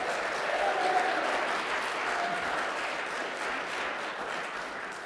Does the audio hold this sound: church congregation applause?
yes